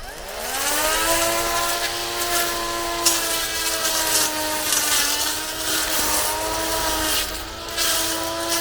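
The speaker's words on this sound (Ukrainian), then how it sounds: "поставили ножі і зараз попробуємо, як буде працювати з ножами" A STIHL-style cordless grass trimmer, the VITALS AZT 3605 SmartLine, running with blades fitted, spins up into a steady high motor whine that holds for several seconds, loud and close, with no talking.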